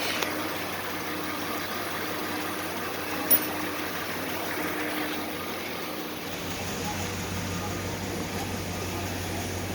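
A 5.7 Hemi V8 fitted with a new intake manifold and carburetor runs at a steady idle, a low, even rumble heard close up that holds throughout, with one brief sharp click partway through and no talk.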